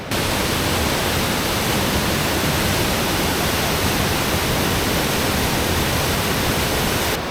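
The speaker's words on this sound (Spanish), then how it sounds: "Hemos parado una cascada que hay a uno de los lados de la carretera y pinta muy guay" A roadside waterfall in New Zealand pours in the rain, a dense, constant roar of falling water that stays loud and unbroken throughout.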